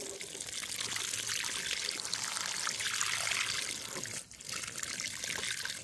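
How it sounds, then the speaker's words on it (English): Water is poured onto food scraps in a container, giving a continuous splashing trickle that runs steadily, briefly dips near the end, then resumes. "Next thing I'm going to do is water it."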